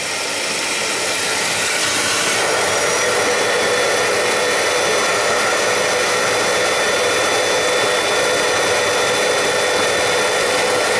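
A Bissell Little Green ProHeat portable carpet cleaner's vacuum motor roars loudly and steadily, a constant high-pitched whine and rush of air that runs throughout with no pauses.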